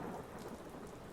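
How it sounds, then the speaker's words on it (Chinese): Steady rain falls outside a cold house at dusk, a continuous broadband hiss of drops on surfaces with a stormy rumble beneath, with no voices. "听着外边的一片雨声"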